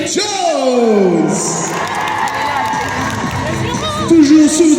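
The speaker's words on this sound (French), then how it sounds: "Toujours sous vos applaudissements et sous un maximum de bruit, Erin Kova." Large event crowd cheering, whooping and applauding at a festival gathering, a loud continuous roar of voices with shouts rising and falling, swelling again near the end.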